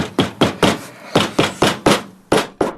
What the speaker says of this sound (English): I hand rub the seams down with a hammer.